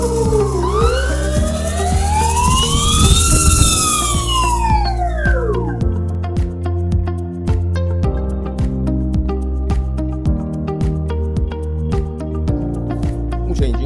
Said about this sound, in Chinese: 那我们现在就来听听原厂碳纤维皮带转动的声音